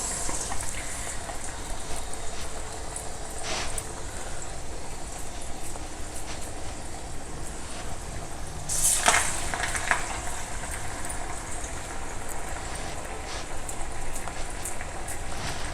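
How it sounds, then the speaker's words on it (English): Vada dough frying in hot oil for a South Indian festival lunch: a steady, dense sizzle and bubbling that runs throughout at an even level, with a brief brighter crackle partway through. "just flatten it out on your palm and gently drop it into the oil"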